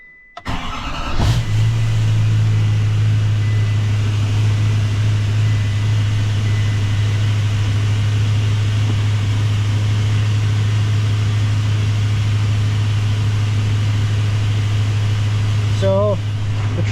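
A truck engine with a GM 10-speed transmission cranks and catches, then settles into a loud, steady idle that runs on close by; a brief voice is heard near the end.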